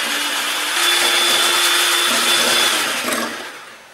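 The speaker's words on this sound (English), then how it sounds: "We're just going to use a little mixer for this, and we're going to blend it for about a minute." A small electric hand mixer whirs steadily through eggs and sugar, a close, constant motor whine that holds for a few seconds before winding down.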